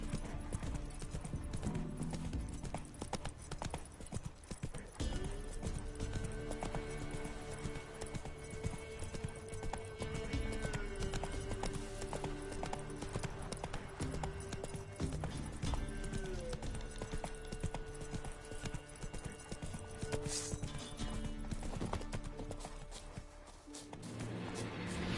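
Horse Roach gallops in The Witcher 3, a steady, loud clip-clop of hooves running through the whole stretch over a dense bed of game music and noise.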